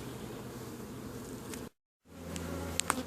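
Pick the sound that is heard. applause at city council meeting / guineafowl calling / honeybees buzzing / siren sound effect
honeybees buzzing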